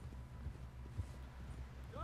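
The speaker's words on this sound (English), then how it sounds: "Someone help John down off this horse!" Horse hooves clip-clop steadily at a walk in Red Dead Redemption 2, quiet and even, with a character speaking over them.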